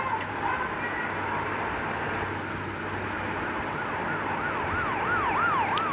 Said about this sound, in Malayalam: ആംബുലൻസ് അല്ല, പോലീസാണ് ഗൈസ്